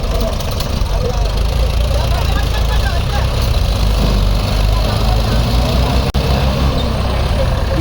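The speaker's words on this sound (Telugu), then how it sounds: "వెనక నుంచి లాగితే ఈజీగా వచ్చేసిన ట్రాక్టర్" A tractor engine runs steadily and loud at close range while pulling a crane tractor stuck in the ground, a continuous idling drone with no clear revving.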